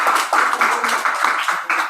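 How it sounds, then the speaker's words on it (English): A crowd claps steadily, a dense patter of applause that stays fairly loud throughout with slight swells. "We should give special applause to Konstantin."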